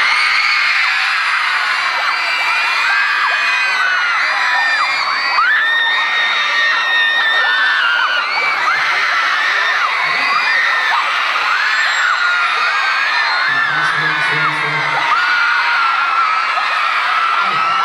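Dense high-pitched screaming from a crowd of women at a concert celebrating Poza Rica's 60th anniversary, sustained and loud throughout with shrill overlapping yells and whoops.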